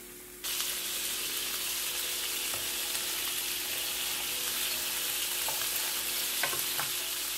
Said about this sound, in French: je vais laisser cuire mes steaks